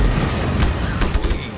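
Explosions and gunfire in the open-world action game Just Cause 3, a dense, continuous barrage of booms and shots with several sharper blasts standing out, loud and close throughout.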